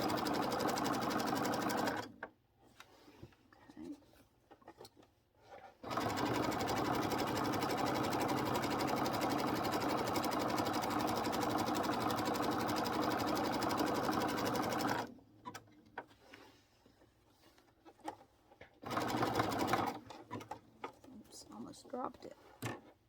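A sewing machine running long straight-stitch seams on an egg-gathering apron, steady loud whirring bursts separated by pauses where a person talks.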